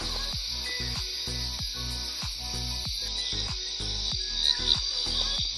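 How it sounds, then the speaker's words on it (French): Frogs calling at a pond at night in Peru, a steady, evenly spaced train of close, pulsing croaks over a constant high insect drone. "On peut déjà observer quelques grenouilles qui chantent."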